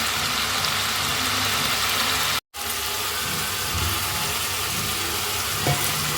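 Potato and spices frying together in a pan, a steady, fairly loud sizzle that continues almost without a break, with faint stirring underneath and no talk.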